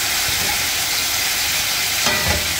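Squid frying with garlic in olive oil, a loud, close, continuous sizzle and crackle filling the whole moment, with a faint stir or clatter near the end.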